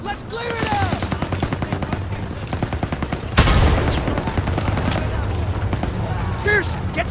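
Call of Duty: WWII battle during Operation Cobra, with tanks and rifles firing on enemy trenches: dense, continuous rapid gunfire and a heavy boom near the middle, while soldiers shout over the din.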